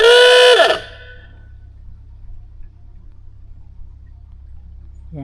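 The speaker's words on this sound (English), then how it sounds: "Yeah, we needed to do the hooter because it's only enough room for one boat" A single loud narrowboat horn blast sounds for under a second, then cuts off, leaving a quiet low engine hum.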